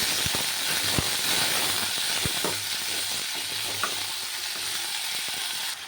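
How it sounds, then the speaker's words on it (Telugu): Green chilies, tomatoes and onion fry in a pan with a steady, dense sizzle and hiss, punctuated by occasional utensil clinks and scrapes as the mixture is stirred. "పచ్చిమిర్చి ఒక రెండు టమాటోలను కూడా వేసేసుకోవాలి"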